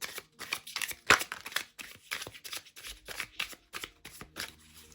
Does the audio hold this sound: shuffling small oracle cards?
yes